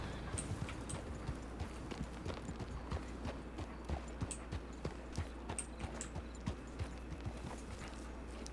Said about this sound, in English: It's a horse Bedivere.